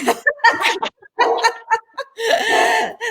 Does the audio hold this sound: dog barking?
yes